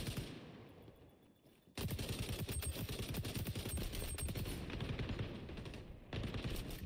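Sustained rapid automatic gunfire in the xDefiant video game, loud and continuous bursts after a quieter opening, with dense rattling shots running to the end and a brief dip near the close.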